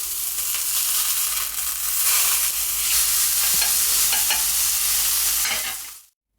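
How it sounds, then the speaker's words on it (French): Seasoned burger meat sizzling in a pan and turned with a spatula, a loud close sizzle with several scraping strokes before it cuts off abruptly. "Et ensuite, délicatement, avec la spatule, je vais venir donc la retourner."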